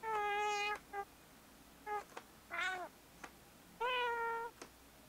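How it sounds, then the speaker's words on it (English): A Nintendo Labo Toy-Con piano plays an old cat meow sound, four drawn-out, slightly hoarse meows with short clipped notes between them, clear and close with no talk. "it sounds like an older cat"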